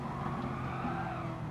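Race cars in GT Sport roar past at speed with a continuous engine drone and faint tire skid under braking, at a low, even level.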